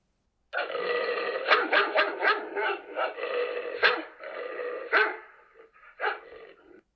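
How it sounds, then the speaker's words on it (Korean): A large white dog gives a series of low, rough barks in quick succession, close and fairly loud, with a few separate barks trailing off near the end. "개가 나지막하고 위협적인 소리로 짖었다."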